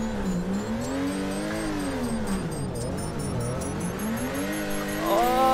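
A car drifts in the racing game Torque Drift on Lake Erie Speedway, the engine howling and wavering as revs rise and fall through the slide, with a thin high whine above and a rising rev at the end.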